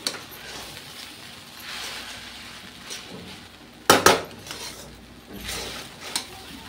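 Sabudana khichdi stirred in a pan, giving soft intermittent scraping and rubbing from a spoon against the metal, with one sharper clatter midway, all fairly quiet and close with no talking.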